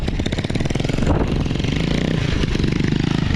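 Motorcycle climbing a mountain trail on Mt. Talamitam, its engine close and loud with a steady throbbing note that holds throughout.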